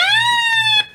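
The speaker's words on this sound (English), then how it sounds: "go and do the siren test on this real quick" A loud, steady electronic siren tone with rich harmonics from a weather radio's siren test, holding one pitch before abruptly dropping off near the end.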